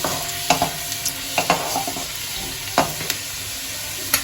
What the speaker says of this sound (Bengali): এবার সবার প্রথমে আমি এই রসুন কুচিটা দিয়ে দিলাম। রসুন কুচিটা একটু নেড়ে নিয়ে